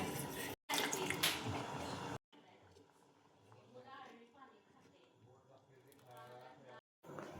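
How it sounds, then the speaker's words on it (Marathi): Hot water pours into a pan of rustic chakvat leaf curry in a broad, splashing rush for about two seconds, followed by quieter kitchen sounds and a person talking. "आपल्याला हवं तसं तेवढं पाणी घालायचं यामध्ये"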